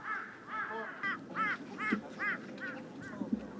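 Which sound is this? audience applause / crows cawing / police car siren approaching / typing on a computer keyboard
crows cawing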